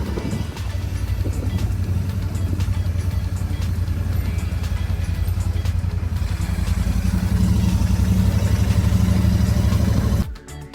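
A Royal Enfield motorcycle rides at steady speed with a continuous low engine thump and road rumble, loud and close throughout, cutting off abruptly near the end.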